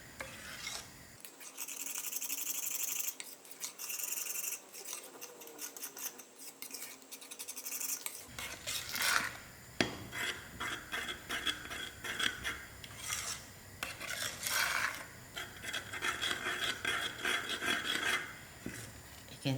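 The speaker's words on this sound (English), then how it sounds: "You can see as it's thickening, it gets into a lump finish. That's the reason why you have to Continue stirring." A spoon stirs thickening hulwa in a pot, making an irregular close scraping and rasping that grows busier and louder partway through.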